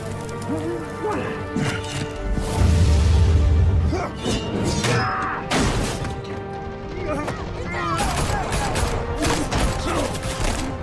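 Gunfire and crashing impacts erupt in a Batman: The Telltale Series video game scene, with sharp bursts and clatter scattered over several seconds beneath voices speaking in the game.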